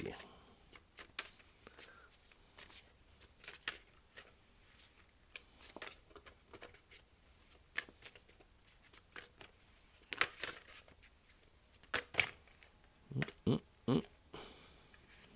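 Tarot cards are shuffled and drawn in soft, intermittent bursts of riffling and sliding paper, quiet and close, with sharper flurries toward the end.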